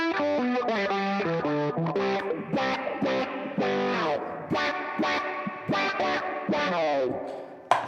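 Electric guitar played through a pedalboard with drive and spacey modulation effects, steady sustained chords and notes ringing out loud and continuous with echoing tails, no talking.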